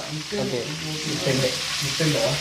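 Steady crackling sizzle of papadum frying in hot sand, with faint voices underneath throughout.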